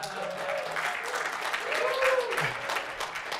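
An audience at a conference talk on Shell usability breaks into scattered applause, a steady wash of clapping under a voice speaking over it.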